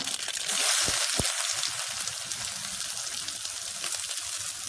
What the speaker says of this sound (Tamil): இப்போ வெங்காயம் பச்சை மிளகாயும் போட்டுருங்க